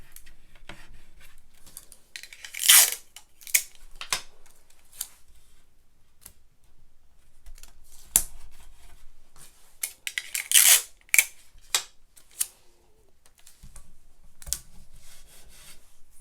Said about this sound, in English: I'm just going to put tape all around the edges here so my stencil won't move